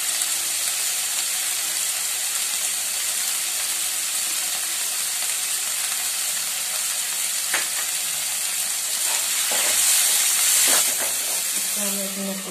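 Tomatoes frying in a pan for homemade chaat, a loud, steady sizzle and hiss throughout with occasional stirring clinks close by.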